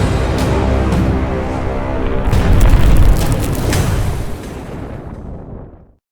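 A single loud, booming report from a Savage Model 10 .308 bolt action rifle at a shooting range, its roar sustained for several seconds and then cut off abruptly.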